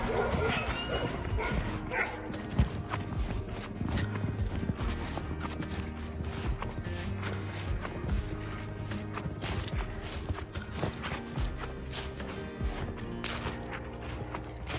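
Sled dogs run along a snowy power line right-of-way trail, with dense rhythmic patter of paws, jingling and occasional yips and barks, steady and close throughout while a person talks over them.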